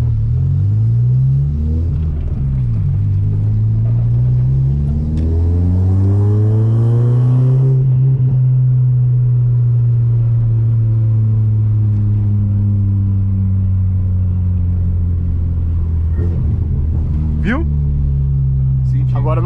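A car's exhaust rumbles and revs loudly up close, engine pitch rising and falling with a couple of sharp pops near the end; people talk intermittently under the engine noise.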